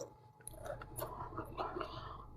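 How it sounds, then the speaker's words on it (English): Crunchy chewing on potato chips close to the mic, soft irregular crackles mixed with quiet whispering. "don't want y'all to hear me chewing on these chips"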